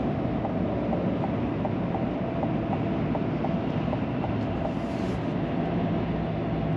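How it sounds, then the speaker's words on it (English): Inside a GMC 1500 AT4 pickup with a 10-speed automatic, a steady low engine and road drone fills the cabin at speed, constant and even with no speech. "I can hear the engine a little bit"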